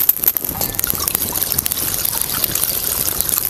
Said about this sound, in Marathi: कढईमध्ये आहे ना मी पाणी घालते.